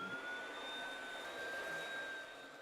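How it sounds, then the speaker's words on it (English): A vacuum cleaner runs steadily, its constant whining motor tone with a high pitched hum holding nearly unchanged throughout, close and fairly loud with no speech. "First, vacuum."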